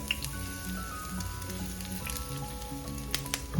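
Micro shrimp fritters fry on a cooking surface with a steady, faint crackling sizzle and occasional small pops, continuous and alone.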